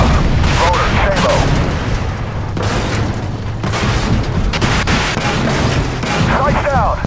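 A heavy boom as an enemy shell strikes a tank's track in a tank combat video game, amid a steady rumbling engine bed and further impacts, with crew voices calling out over it.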